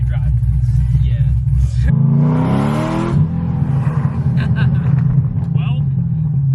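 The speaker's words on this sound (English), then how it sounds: "And the drone, you'll hear it a bit." BMW F80 M3 exhaust drone inside the cabin while driving, a steady low booming hum that runs throughout beneath people talking.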